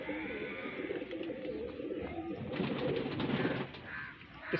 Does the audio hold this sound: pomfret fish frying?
no